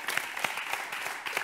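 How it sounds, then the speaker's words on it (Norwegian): Studio audience applause for a guest on a Norwegian talk show, a brief, fairly quiet burst of clapping from a small crowd. "Applaus for Silje!"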